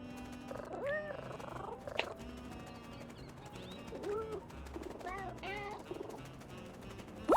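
Short cat meows from the game Little Kitty, Big City, mixed with chirping birds and cooing pigeons in a soft, busy outdoor soundscape, the meows brief and fairly faint.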